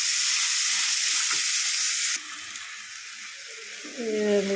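Chopped ridge gourd goes into a pan of hot sizzling tempering, and the loud frying hiss drops off suddenly partway through. A voice is heard faintly near the end.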